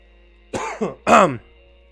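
A livestreaming gamer playing World of Warcraft: Battle for Azeroth gives two close, rough bursts of throat clearing and coughing, a short one followed by a louder, longer hack, then falls back to near silence.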